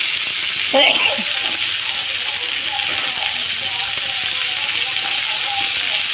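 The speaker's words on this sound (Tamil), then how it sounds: "தக்காளி நல்லா வதங்கட்டும்" Tomatoes sautéing with onions in a pan, salted to soften faster, for a pumpkin and green pea kootu poriyal: a steady soft sizzle runs throughout at even loudness, with a brief clatter near the start.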